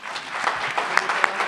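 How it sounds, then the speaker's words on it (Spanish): An audience applauds at a political talk, a short burst of soft, scattered clapping heard at moderate distance with a few sharper claps standing out. "Con un fuerte aplauso tiene la palabra Rocío de Mer."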